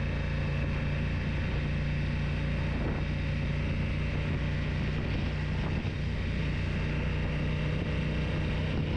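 A Honda NT1100 motorcycle engine pulls in second gear with a steady, close, throaty drone and a constant low rumble throughout, with no voices.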